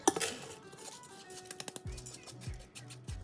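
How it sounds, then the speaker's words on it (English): Washed dal poured into an Instant Pot metal insert, a brief clatter of grains against metal followed by light clinks and a few soft thumps, quiet and close, with no talking. "Add the washed dal to your Instant Pot."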